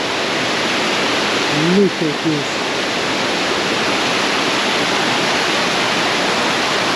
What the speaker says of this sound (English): And here we are, just under the waterfall.